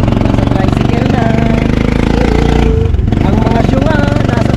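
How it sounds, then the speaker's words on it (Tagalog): A motorized tricycle's engine drones loud and close with a steady, rough rumble while riding, a brief dip in the middle, and passengers' voices mixing in over the noise. "Alright guys, kami po ay nasa tricycle na."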